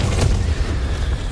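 A spell blast goes off in Hogwarts Legacy as a short, heavy boom with a rumbling low end that fills the whole moment and stands alone, with no voice.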